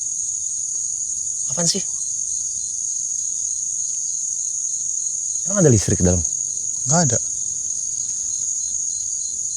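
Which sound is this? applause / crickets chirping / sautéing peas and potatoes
crickets chirping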